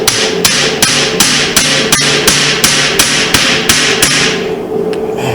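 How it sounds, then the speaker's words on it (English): An impact driver rattles through about a dozen rapid, evenly spaced hammering bursts while loosening tight screws on a 1999 Suzuki GSX-R 750, loud and close, with no talking. "Use the impact driver."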